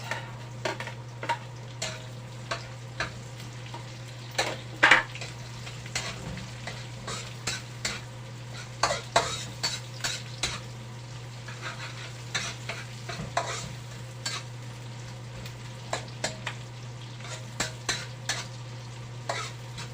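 Chopped onion sautéing in a pan for ginataang gabi makes a low, continuous sizzle beneath repeated sharp clicks and scrapes of stirring, steady and fairly quiet throughout, with no speech.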